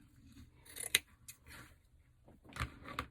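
Scissors snipping through burlap for a sunflower wreath: a few crisp, close cuts with soft rustling between, quiet overall, including two sharper snaps about a second and a half apart.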